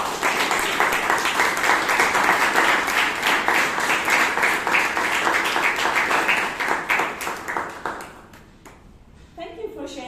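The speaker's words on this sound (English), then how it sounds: "Give her a big round of applause." Sustained applause from an audience at a Toastmasters club meeting in Bangalore, dense steady clapping that thins and fades toward the end.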